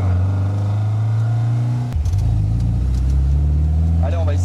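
A 1960s MG Sebring sports car engine droning steadily while driving, a low loud hum that dips briefly then picks back up, with a short voice near the end.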